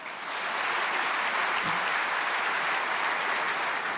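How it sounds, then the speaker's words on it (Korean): A church congregation at a prayer meeting for peaceful reunification applauds to welcome the pastor, a dense, even wash of many hands that holds steady throughout, heard from within the hall. "목사님 박수로 환영하시겠습니다"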